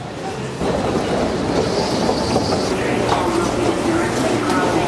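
A passenger train rolls along its rails, heard from inside the cafe car as a steady, loud rumble and clatter with faint squeals, with a voice talking over the noise.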